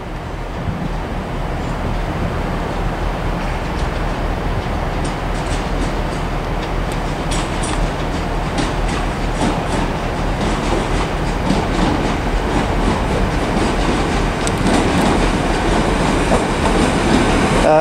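An LNER passenger service from Doncaster to Edinburgh rolls into Carlisle station on the West Coast Main Line, a steady loud rumble with rhythmic wheel clatter over the rails and faint squeals, continuous throughout with no talk.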